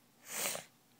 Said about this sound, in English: Sorry I keep sniffing.